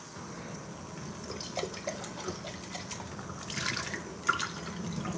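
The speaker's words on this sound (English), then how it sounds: "So I'm gonna rinse this coffee pot out real quick." Tap water runs and splashes while a coffee pot is rinsed at a sink, a steady close wash of water with a few drips and clinks rising near the end.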